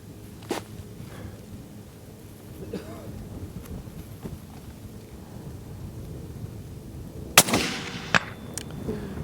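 A long-range rifle is fired at a large target, giving one sharp, loud crack late in the clip and a fainter snap shortly after, over quiet outdoor background.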